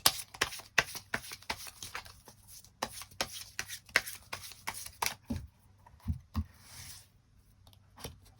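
Tarot cards shuffled and drawn in a quiet room, a close rapid series of crisp riffling slaps and flicks, with a few softer slides and taps toward the end.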